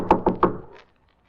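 Three firm knocks on a wooden door in an old radio drama, evenly spaced and close, with a faint scuffle trailing after and then silence.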